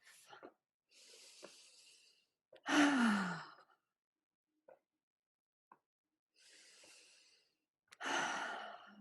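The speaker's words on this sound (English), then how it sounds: "So take a few more of those breaths out your mouth" Long audible exhalations through the mouth during a qigong breathing session, several slow, breathy sighs in sequence separated by quiet pauses, close and fairly soft with no talking.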